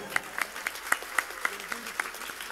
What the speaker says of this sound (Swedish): En stor applåd för Chloe!